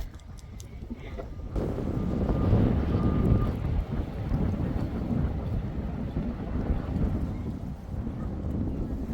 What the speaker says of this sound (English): It's pretty windy, so I hope you guys can hear me okay